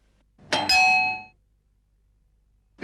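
A household doorbell rings once with a bright two-tone ding-dong that hangs briefly before fading into quiet, with no voices over it.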